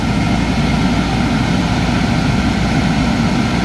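A commercial boiler burner at a grocery store fires up with its safeties temporarily bypassed, giving a steady, loud, deep roar of combustion that holds constant throughout.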